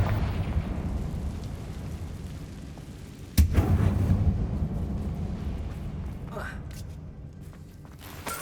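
A Confringo fire spell bursts in Hogwarts Legacy, a sudden loud blast midway followed by a rumbling decay, set against a quieter ambient rumble in a spider-webbed cave.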